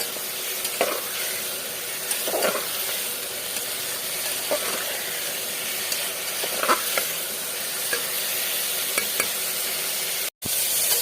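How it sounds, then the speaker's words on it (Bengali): Ingredients with ginger fry in a pan while making dalia, a continuous close sizzle broken by occasional stirring scrapes and light taps, ending in a brief cut. "একটু ভাজতে দেবো আমি এটাকে।"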